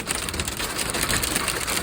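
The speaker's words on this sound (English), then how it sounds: "Ay, that's some serious hail." Serious hail pours down in a storm, a dense, steady, loud clatter of ice striking surfaces nearby, with no voices.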